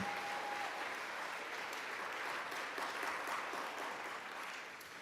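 An audience at an arts awards ceremony applauds donors, community members and supporters, a steady, dense wash of many hands clapping that holds for the whole stretch and thins slightly at the end.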